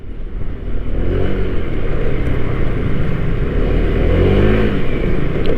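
Honda Click 160 2023 scooter with a tuned original CVT clutch bowl and 9-12 gram rollers, engine held at a steady, loud, close rev with a constant droning tone and no talking.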